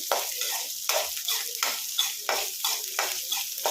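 Masala for hotel-style keema sambar frying and being stirred in a pan, a close, hissing sizzle broken by regular scraping strokes of a spoon, roughly three or four per second, with no talking.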